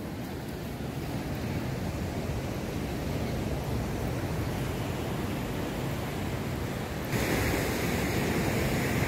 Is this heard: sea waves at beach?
yes